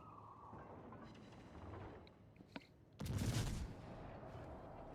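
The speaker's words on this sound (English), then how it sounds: "Here's a good heavy salvo coming." Heavy naval gun salvo in World of Warships, a sudden loud booming blast with rumbling tail arriving after quieter distant thuds and a sharp crack, then settling back to a low background roar.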